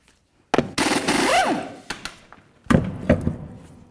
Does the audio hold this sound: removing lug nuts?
yes